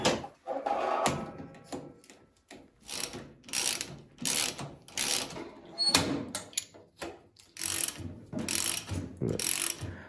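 Ratchet cranking down bolts during a Craftsman 9 HP snowblower restoration, repeated bursts of clicking in an uneven rhythm with short pauses, close and fairly quiet.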